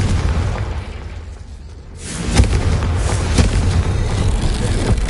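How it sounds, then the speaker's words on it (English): A Confringo explosive spell goes off in Hogwarts Legacy: after a quieter lull, a loud booming blast erupts, followed by a sustained rumbling roar with another thump, close and forceful. "Incendio! Confringo!"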